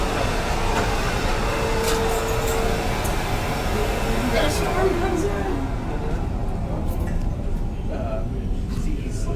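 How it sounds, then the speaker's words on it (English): A vacuum cleaner runs in another room, giving a continuous muffled roar that holds steady for the whole stretch, with some faint talk over it. "Tyler, could you ask her not to vacuum?"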